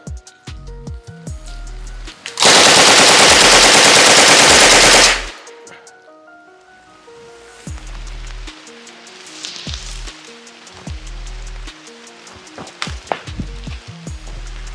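A Vector UZI with a vertical grip fires one long, loud sustained burst at an outdoor range, a dense roar of rapid shots lasting a few seconds, followed by quieter scattered clatter and rustling.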